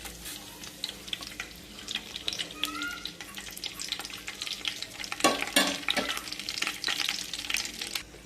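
Whole spices for bagara rice crackling in hot oil, a close sizzle with bursts of popping and spoon scrapes as they are stirred, swelling louder toward the middle.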